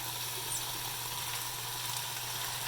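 Green beans sauté in a pan with a constant, moderately loud sizzle that stays steady and unbroken, with no voices over it.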